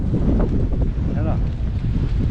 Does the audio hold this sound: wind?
yes